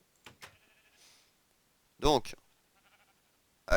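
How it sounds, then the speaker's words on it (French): Minecraft sheep bleating in a survival game while being fed wheat, a few short nasal bleats spaced apart and loud, alongside quieter game clicks and soft background tones. "Donc là, je vais nourrir les moutons."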